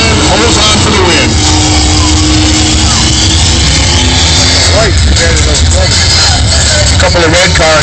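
Drag-racing cars, including the General Lee, roar down the strip in a loud, continuous engine blast with rising and shifting revs, heard under an announcer's commentary.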